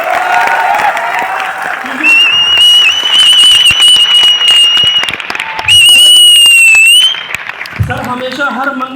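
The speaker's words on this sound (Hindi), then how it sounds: "एक बार जोरदार ताली हो जाए संतोष यादव सर के लिए।" An indoor event audience applauds Santosh Yadav at a Vestige celebration in Noida, loud, dense clapping with a sustained high whistle-like tone and some talking mixed in.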